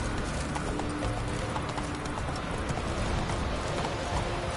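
Roach, the horse in The Witcher video game, gallops with rapid, rhythmic hoofbeats, loud and close, in a dense continuous run alongside background game sound.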